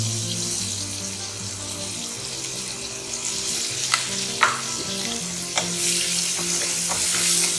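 Chopped onions sizzle steadily in a pan with spices as they are stirred, a constant close frying hiss broken by a few sharp scrapes of the spoon against the pan, with no one talking.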